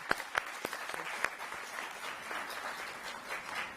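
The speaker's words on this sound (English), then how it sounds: "one big round of applause." A conference crowd breaks into applause, starting with a few sharp claps and swelling into steady, sustained clapping that fills the room.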